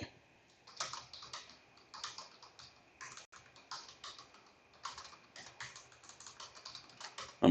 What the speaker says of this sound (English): I'm typing this out now.